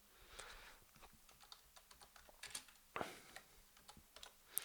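Computer keyboard typing on a Linux desktop running Xubuntu, a run of quick light key clicks with a few louder taps, somewhat distant and fairly quiet, with no voices.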